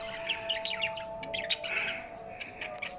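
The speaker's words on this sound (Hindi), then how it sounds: "ये सब्ज़ रंग का तोता है और इसके साथ मटकी में है येलो कलर की तोती।" Pet budgerigars, small Australian parrots, chirp and twitter continuously from a clay breeding pot, a steady chatter of quick high tweets from several birds at close range with no talk.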